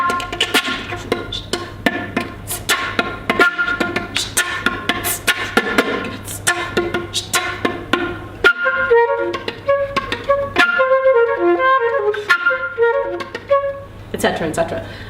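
C flute extended technique from Dai Fujikura's flute concerto: rapid breathy percussive attacks over a steady low hum, moving into fluttering, bright pitched figures, close and clear with no talking.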